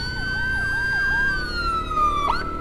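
A loud ambulance siren under police escort wails up close, its tone sweeping steadily and then dropping, with a sharp chirp near the end over road and engine rumble.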